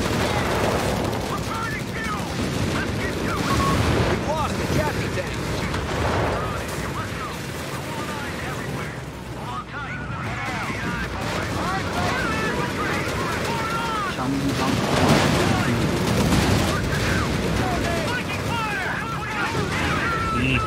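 Machine gun bursts and scattered gunfire rattle through a Company of Heroes 3 battle, mixed with explosions and battlefield noise, while players talk over the fighting.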